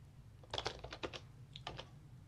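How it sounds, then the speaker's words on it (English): Fingers type on a computer keyboard in quick clusters of clicks with a brief pause, faint and close against a quiet low hum. "now I can start typing when that's installed"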